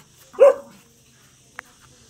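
A Rottweiler gives a single loud, close bark near the Ouzoud waterfalls in Morocco, followed by quiet background and a brief faint click.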